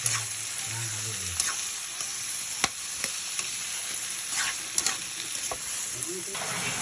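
Chayote and tomatoes stirred in a hot pan give a strong steady sizzle with spatula scrapes and a few clacks, and a brief hum of voice at the start.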